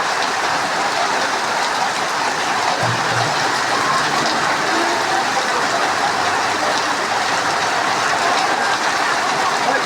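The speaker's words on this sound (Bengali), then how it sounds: "প্রচণ্ড বৃষ্টি হচ্ছে," Heavy rain during a Kalboishakhi storm, a dense unbroken roar of downpour on surfaces, loud and steady for the whole stretch with no voices.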